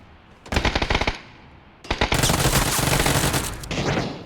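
Rapid bursts of automatic gunfire in the video game PUBG on the Vikendi map, a short volley followed by a longer sustained exchange of loud shots, close and echoing.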